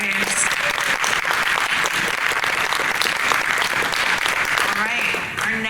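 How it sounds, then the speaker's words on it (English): Sustained, loud crowd applause at a horror host hall of fame induction ceremony, steady clapping from many hands throughout with a few faint voices mixed in. "one more round of applause for Gruesome Graves"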